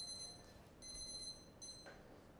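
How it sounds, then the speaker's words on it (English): A repeating electronic alarm beeps in a bakery, sounding in bursts with short gaps over a steady low room hum. "Oh, there's the alarm."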